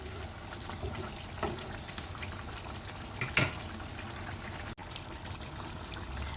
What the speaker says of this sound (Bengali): এই মাংসটা জলটা শুকিয়ে আসা পর্যন্ত আমাকে একটু ওয়েট করতে হবে কষিয়ে নেব ভালোভাবে